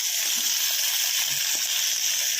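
Chicken for pepper chicken chukka hissing loudly in a hot pan, a steady dense sizzle that holds close and even throughout with no talk over it.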